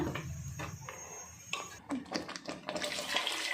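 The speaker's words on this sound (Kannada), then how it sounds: "ನಮಗೆ ಎಷ್ಟು ಬೇಕಷ್ಟು ನೀರು ಸೇರಿಸ್ಕೊಳ್ಳೋಣ" Water poured into a pot of fish sambar with spice paste splashes and gurgles in uneven bursts close by, with light clinks of the vessel and no voices.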